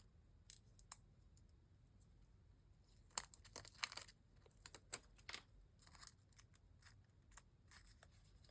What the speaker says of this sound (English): I'll have to cut the little snippet, the little edge pieces